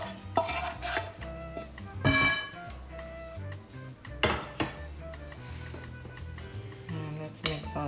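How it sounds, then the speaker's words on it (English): Cooked onions and green peppers are added to a meatloaf mixture in a bowl, with clinking utensils, knocks against the dish and wet mixing sounds in an irregular, close-up rhythm. "now I'm gonna go ahead and add the cooked onions and green peppers"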